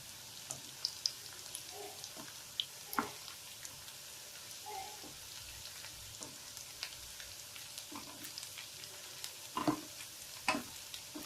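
Sliced bitter gourd (karela) frying in a pan: a quiet, steady sizzle broken by scattered pops and the clinks of occasional stirring.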